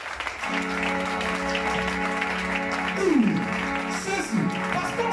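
A church congregation at a Rosh Hashanah worship service applauds steadily for several seconds, dense clapping blended with sustained keyboard or organ chords and a voice sliding over the music.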